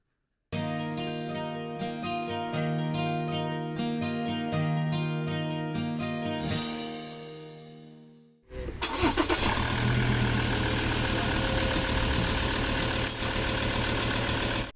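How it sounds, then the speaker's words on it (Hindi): A car engine cranks and starts during an oil flush, then settles into a steady close idle; a tonal chime sequence plays first and fades just before the engine catches. "इसको स्टार्ट करके रखूंगा 5-7 मिनट"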